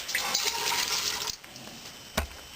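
Water running into a sink basin to rinse off an item in a homemade electrolytic capacitor project, a steady broadband wash that cuts out after about a second, followed by a brief knock.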